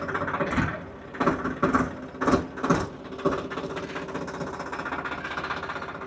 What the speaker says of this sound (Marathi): तर आता मी ट्रॅक्टर लावतोय